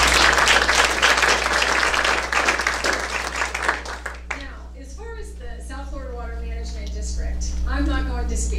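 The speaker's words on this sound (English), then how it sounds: "So have a round of applause for all of us." Audience applause at a Rivers Coalition community meeting: dense, steady clapping for about four seconds that cuts off abruptly, followed by a speaker talking under a constant low hum in the room.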